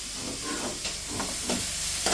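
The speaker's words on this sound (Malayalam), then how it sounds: "അങ്ങനെ ഒന്ന് നന്നായിട്ട് ഇളക്കി കൊടുക്കണം അല്ലേ?" Food is stirred in a cooking pot over heat, a steady sizzle and hiss broken by a few soft scraping strokes of a spoon, close and fairly quiet.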